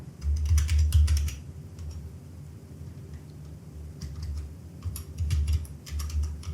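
A ChatGPT prompt being typed on a computer keyboard, with quick bursts of crisp, close key clicks, a pause in the middle, then more typing, over a low steady hum.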